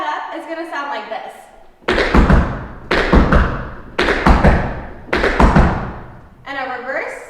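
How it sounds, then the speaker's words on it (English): Sped-up tap dance cramp rolls: four loud, close bursts of rapid heel-and-toe taps on a hard floor, each a quick rippling cluster, with talking before and after. "a cramp roll sped up is going to sound like this."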